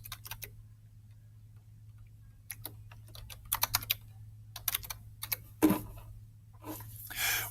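Keys clatter on a computer keyboard in quick bursts of typing separated by pauses, close and fairly quiet over a low steady hum.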